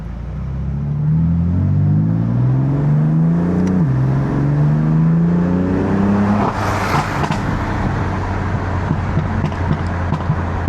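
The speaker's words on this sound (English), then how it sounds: "Like if I get a tune, this is how I want my burbles to be, like just like this." A BMW M3 exhaust burbles under steady revs, its engine tone rising and falling smoothly and loudly, then breaking into a rapid, crackly popping on the overrun.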